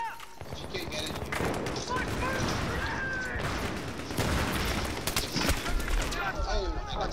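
Battlefield 3 multiplayer conquest match on the Grand Bazaar map, with rapid gunfire crackling through a busy battle mix and occasional booms while a player talks over it.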